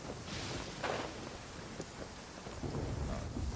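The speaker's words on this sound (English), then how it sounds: "Man, this thunder is loud." Thunder rumbles in a steady rainstorm in the video game Genshin Impact, with broad continuous rain hiss and low rolling thunder building in the last second.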